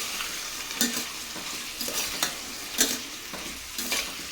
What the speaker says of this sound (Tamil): இப்போது இந்த காய்கறி எல்லாம் நல்லா வதக்கி விட்டுக்கலாம்